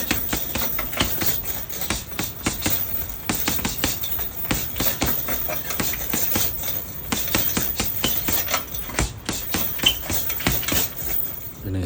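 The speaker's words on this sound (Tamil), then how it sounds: "இன்றைக்கி டே த்ரீயோட ஸ்டார்டிங்கில் பஞ்சிங் பேக்கோட ஸ்டார்ட் பண்ணிட்டேன்." Punching bag workout at the start of a gym chest day: a dense, continuous flurry of close, sharp impacts in quick, irregular succession, with no talking.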